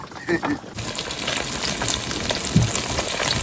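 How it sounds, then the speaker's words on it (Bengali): Steady crackling sizzle of fish frying in hot oil, loud and close, with a few brief clatters and faint background voices. "মাছ ভাজা চলছে।"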